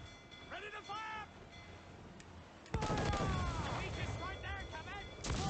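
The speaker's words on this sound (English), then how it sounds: "So what I'm gonna try and do, I'm gonna mortar you first." Naval mortar fire in the pirate-ship combat of the video game Assassin's Creed IV: Black Flag: after quieter game ambience, one sudden heavy blast erupts, followed by a sustained loud roar and rumble.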